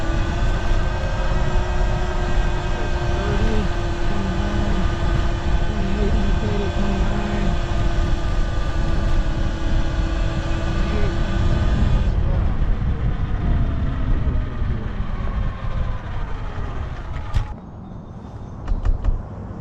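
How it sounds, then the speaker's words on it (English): A Talaria Sting electric motorcycle climbs a hill in Oregon at full throttle, its loud, steady motor whine and rushing wind holding for about twelve seconds before easing off and falling quieter near the end. "Okay, full throttle up the hill."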